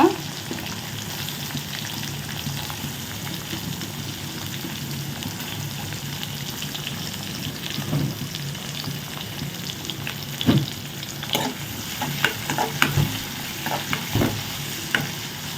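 Green chilies and onions sautéing for a pumpkin stir-fry, a steady crackling sizzle that runs throughout, joined later by louder spatula scrapes and clatters, close and without voices.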